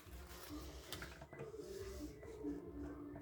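Sewing machine running steadily as it stitches a safety seam along the bottom edge of a fabric bag, a continuous close mechanical whir with a faint voice in the background.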